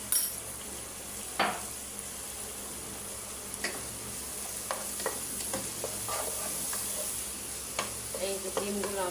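Vegetable fried rice with eggs and black pepper is stir-fried in a pan over high heat; a steady loud sizzle runs throughout, broken by scattered clinks and scrapes of the spatula against the metal.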